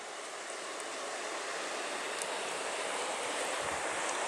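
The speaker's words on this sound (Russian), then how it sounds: "Шум реки." A forest river flows steadily nearby, a continuous broadband rushing of water that stays even and fairly loud throughout, with no voices over it.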